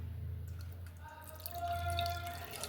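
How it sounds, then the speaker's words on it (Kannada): Tamarind juice drips and trickles as it is strained into a vessel for pani puri, a steady close liquid patter with brief splashes, no voices. "ಇವಾಗ ಸೋಸ್ಕೊಳ್ಳೋಣ ಒಂದು ಪಾತ್ರೆಗೆ."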